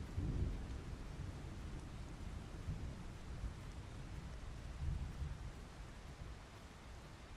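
Rain and a thunderstorm in the Path of Titans game make a continuous, faint hiss of rainfall with low rumbling swells of thunder and no voices.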